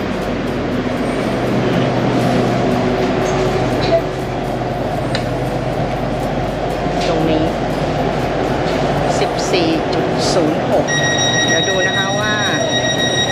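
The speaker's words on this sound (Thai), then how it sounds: "รถไฟมาพอดีเลยค่ะ" An SRT Red Line commuter train arrives at an underground station platform, a loud steady rumble with brief squeals and beeping tones, while someone talks over it.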